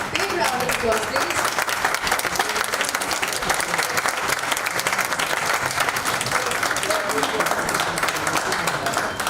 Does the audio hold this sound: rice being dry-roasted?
no